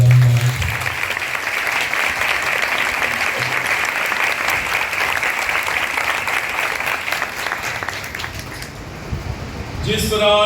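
Loud, sustained applause from a church congregation at a Palm Sunday service fills nearly the whole stretch, a dense even roar of clapping that only thins out near the end.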